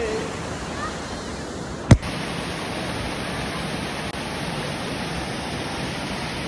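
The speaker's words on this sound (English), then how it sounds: "Waterfall!" A waterfall roars outdoors as a steady, even broadband rush that never lets up, broken once by a sharp knock or click near the start.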